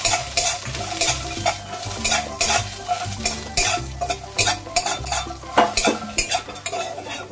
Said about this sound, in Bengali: ঘিয়ের মধ্যে কিছুটা কাজু বাদাম আর কিশমিশ দিয়ে দেবো। দিয়ে এটাকে একটু লাল লাল করে ভেজে নেব।